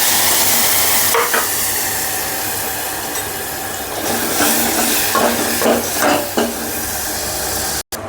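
Whole spices like cardamom, cloves, black pepper and cinnamon roast with ground masala paste in oil for Kolhapuri mutton, a loud steady sizzle with repeated scraping stirs, cutting out abruptly at the end.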